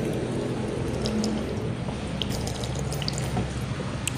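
A water fountain at a hospital building in Manila runs steadily, a constant splashing wash with small drips, close by and even in level, with no voices.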